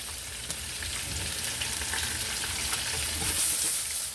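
Chicken sautéing in oil with rice wine vinegar in a hot pan for a honey chicken dish, a loud, close, continuous sizzle with scattered crackles and occasional stirring scrapes.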